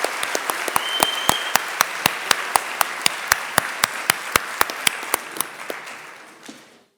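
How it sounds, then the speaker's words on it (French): A graduation ceremony audience claps in unison to a steady, even beat, about three claps per second. The loud, sharp, rhythmic claps ring out in a hall, then fade away in the final second. "les applaudir très fort"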